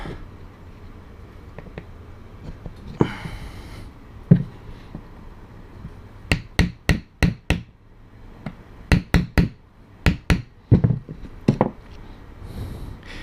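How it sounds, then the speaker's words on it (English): A roll pin is tapped into a KWA LM4 airsoft piston return spring assembly as a series of sharp, close metallic taps in quick clusters with pauses between them, and no talking. "then you put that back in, and reinstall that roll pin"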